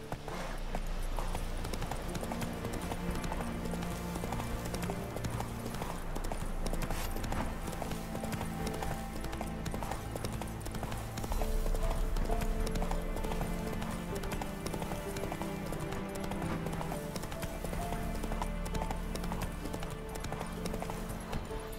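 Horse hooves gallop steadily as the rider travels in The Witcher 3: Wild Hunt, a continuous rhythmic clip-clop over a dense game soundtrack, with a voice heard faintly at times.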